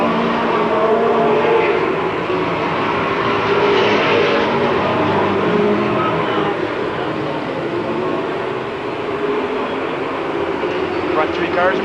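Race cars roar around the track during a 1993 MASCAR July 4 feature race, their engines forming a loud, constant wash of noise under a commentator who talks throughout.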